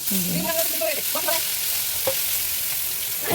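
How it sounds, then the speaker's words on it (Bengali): Eggplant slices sizzling in hot oil in a home kitchen, a steady crackling fry with a few short stirring scrapes and clinks, close by and uninterrupted by talk. "তেল অনেকটা গরম হয়ে গেছে, এখন বেগুনটা এর মধ্যে"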